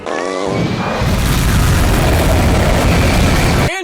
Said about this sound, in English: Stand by for fireworks.